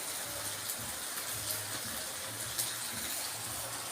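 Water pours into a hot pan of sardines, giving a steady hissing, splashing gush with a low bubbling undertone, close and continuous throughout.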